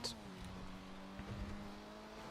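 An MK5 Supra drives in the video game GTA V, its engine a steady droning hum with a held tone and faint tire noise throughout.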